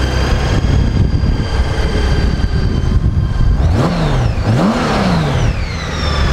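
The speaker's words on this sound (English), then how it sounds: "Bike runs really good." The engine of a Honda Gold Wing GL1800 motorcycle runs steadily and loudly up close, with a couple of brief rising revs near the end.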